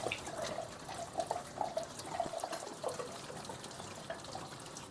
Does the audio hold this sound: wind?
no